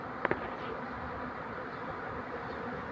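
Honeybee swarm clustered high on a tree branch, a steady, even insect buzz filling the whole stretch with two brief sharp clicks near the start and no voices.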